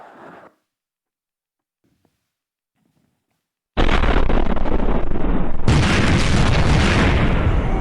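Explosion sound effect in a Korean radio drama about the independence fighter Yun Bong-gil: a brief faint noise, then silence, then a sudden, very loud blast that swells into a sustained roaring rumble, growing even louder partway through.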